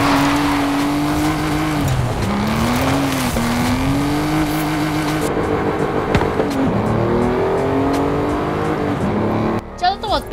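A stock V12 Mercedes G-Wagon accelerates hard on a highway, its engine note climbing through the revs and dropping at gear changes, then rising again, loud and close from inside the cabin, with occasional talk.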